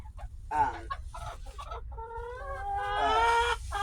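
Backyard chickens clucking near and loud, a series of short staccato clucks followed by a drawn-out squawking call with clear tonal bands, alone without talk.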